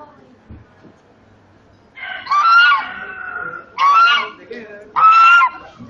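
Three loud, nasal goose honks ring out close by in separated bursts, after a quiet stretch with faint background sounds.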